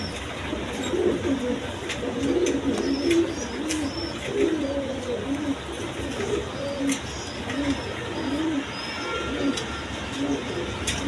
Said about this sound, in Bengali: এইখানে আরেক পেয়ার রেসার কবুতর আছে দেখেন, এটা ক্রিমবার কালার।